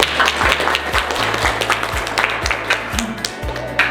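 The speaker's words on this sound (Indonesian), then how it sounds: "Tepuk tangan dulu." Clapping from a small group of participants after a group presentation in a teacher training session, several close hand claps over a low repeating hum and thumping background, sounding like a video call.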